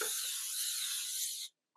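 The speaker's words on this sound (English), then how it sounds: "I'm going to give it a quick spray with vegetable cooking spray" A steady aerosol hiss of vegetable cooking spray into a pan for about a second and a half, close and fairly loud, then it cuts off abruptly.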